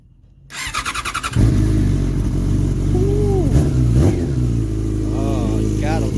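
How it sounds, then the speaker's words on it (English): A Yamaha R6 motorcycle's fuel pump buzzes in a brief pulsing burst, then the engine catches and runs loudly up close, with a few revs and squealing tones over the idle. "hear that fuel pump kick on?"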